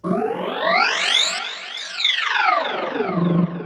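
A buzzy Pigments 6 synthesizer tone run through a vocoder sweeps upward in pitch, then down, then up again, with a robotic, vocoded timbre and no voices.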